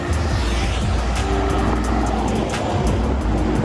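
A car driving through Bangrak on Koh Samui, a steady close engine and road drone with passing traffic noise, with no speech over it.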